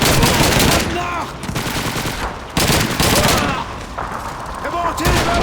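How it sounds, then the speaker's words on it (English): Sustained MG42 machine gun bursts in the World War II shooter Call of Duty 2 during the Stalingrad city hall battle, loud dense rattling fire with overlapping shots and booms, near and continuous, with shouted voices mixed in. "Machine Gun MG42! Near the sandbag!"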